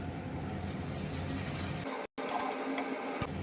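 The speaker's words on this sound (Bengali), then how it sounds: "সামান্য একটু জল দিয়ে মশলাটা বানিয়ে নেব" Water pouring into a pan of spice masala with chopped chilli, ginger, turmeric, Kashmiri chilli powder, salt, sugar and peas: a steady close gush that breaks off briefly, then continues more softly, with no talk.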